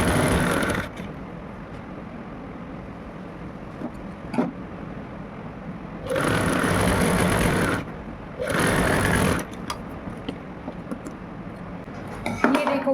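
A sewing machine stitching a border onto a kurti runs in several bursts, a steady mechanical whir close by, broken by pauses filled with quieter handling of cloth.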